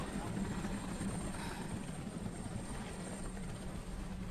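Steady rotor thrum of a helicopter hovering nearby, a continuous pulsing roar that holds level throughout without fading.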